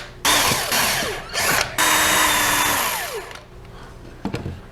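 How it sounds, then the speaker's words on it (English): A power drill bores out a rivet head on the wire rack of a 2017 freeze dryer, a loud whining metal-cutting grind in several bursts, with the motor pitch sliding as it bites and releases, close up. "So just drill out the rivet head."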